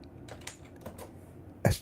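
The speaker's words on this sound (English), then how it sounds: "my typing is still a little impaired" Keystrokes on a computer keyboard, a handful of soft, irregular clicks at close range, ending in one louder knock.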